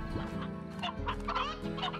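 Chickens cluck in the video game Slime Rancher, a short run of close, repeated clucks and squawks with no talk over them.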